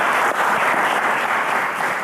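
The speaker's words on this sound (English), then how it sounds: "Ladies and gentlemen, a round of applause for Raphael." A studio audience at a televised quiz show applauds a departing contestant, a steady, loud wash of many hands clapping with no talk over it.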